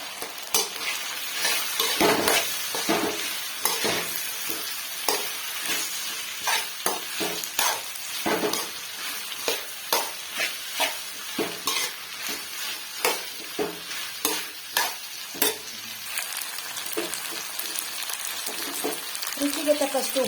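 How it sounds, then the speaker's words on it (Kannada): Fried okra being stirred in a pan, with a constant sizzle under repeated scraping and clattering of a spatula against the pan, close and fairly loud. "ಬೆಂಡೆಕಾಯಿ ಫ್ರೈ ಮಾಡಿಟ್ಟಿದ್ನಲ್ಲ, ಅದನ್ನ ಹಾಕೋತಾ ಇದ್ದೀನಿ."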